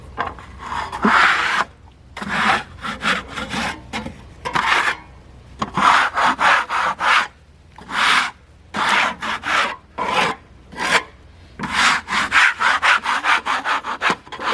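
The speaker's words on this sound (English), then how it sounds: "Too big of a log for a Harbor Freight sawmill, that's for sure." A Harbor Freight sawmill cutting a large black walnut log, the blade rasping through wood in repeated strokes broken by short pauses.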